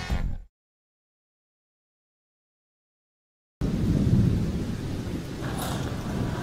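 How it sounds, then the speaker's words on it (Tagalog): Heavy rain pours down with thunder rumbling, a steady loud wash after a brief burst and a long stretch of silence. "Grabe, lakas ng ulan."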